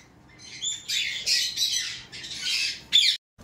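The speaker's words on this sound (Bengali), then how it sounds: "এখানে কিন্তু সিঙ্গেল রেড ফ্যাক্টরের কোনোর পাখি, পাইনাপেল কোনোর রয়েছে" Harsh, loud squawks from single red factor pineapple conures burst out in a rapid series of shrill calls, close by, with a few short screeches and a sudden stop near the end.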